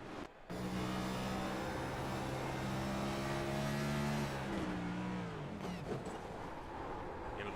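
An onboard race car engine roaring at full throttle around Bristol Motor Speedway's banked track, a loud sustained drone with rising and falling pitch as it lifts and throttles back up.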